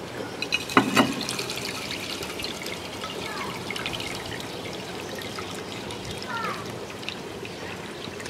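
Water poured out of a tub of carnivorous plant soil mix containing silica sand and perlite, a steady soft trickling and splashing throughout, with a brief louder splash near the start.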